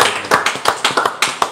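Crowd clapping at a school live event, a quick run of about eight sharp, close claps in an uneven rhythm, with no voices.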